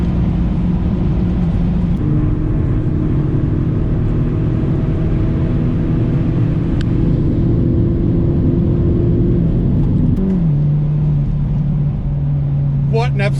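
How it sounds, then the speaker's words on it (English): A Hyundai N car, from the i20 and i30 N hatch and sedan line, is driven hard on a racetrack, with a steady loud engine drone that holds and then drops in pitch as a person speaks over it. "Then hard on the throttle again"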